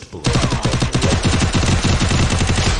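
Rapid automatic gunfire in the battle-royale game Garena Free Fire, a loud, close burst of rhythmic shots that starts abruptly and keeps firing continuously to the end.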